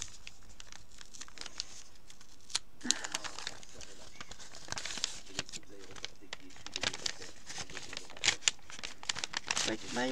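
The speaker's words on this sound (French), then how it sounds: "Je vais essayer de pas déchirer l'enveloppe pour m'en resservir." A paper envelope being opened carefully by hand: close crinkling and papery rustles with scattered sharp crackles, while a voice talks at times.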